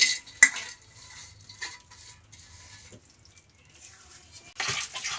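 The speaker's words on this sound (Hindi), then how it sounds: "इसे अब मैं इसको इस कढ़ाई के अंदर डाल दूंगी" Crushed dry fruits for atta laddu tipped into a kadhai and stirred, giving soft scraping and a few sharp clinks of a spoon on metal, with a louder rustling scrape at the end.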